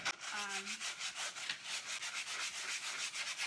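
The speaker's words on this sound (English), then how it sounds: "you want to sand" Close, steady scratchy strokes of sandpaper rubbing on painted wood, repeated in a quick back-and-forth rhythm, heard alone.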